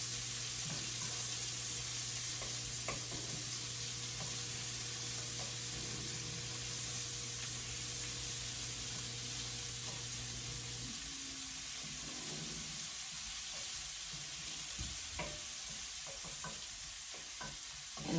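Onions frying in leftover oil in a skillet that just held liver, with a steady broadband sizzle running throughout and occasional stirring clicks and scrapes, no voices.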